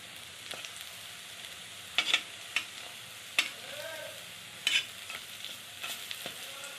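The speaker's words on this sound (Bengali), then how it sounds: "এভাবে প্রত্যেকটা বড়া ভেজে নেব" Lentil bori fritters made from masoor dal frying in hot oil, giving a soft steady sizzle with occasional sharp clinks and scrapes of a spatula turning them, no talking.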